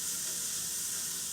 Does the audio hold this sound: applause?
no